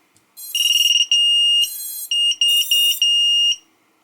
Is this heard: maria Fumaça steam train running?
no